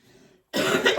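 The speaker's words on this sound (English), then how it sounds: "He's out there coughing. I'm in here coughing." A single loud, harsh cough bursts out close up after a moment of near silence.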